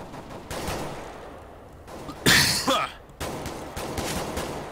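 Rapid bursts of Tech-9 pistol fire in Counter-Strike: Global Offensive crack out, with one loud volley in the middle and scattered shots around it.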